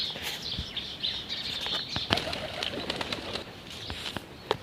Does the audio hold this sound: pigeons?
yes